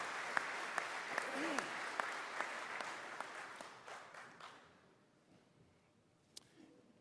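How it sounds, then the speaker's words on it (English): Applause from a veterans' convention business session audience, steady for about four seconds and then fading to a quiet room with a few stray claps. "Let's give these outstanding companies another round of applause."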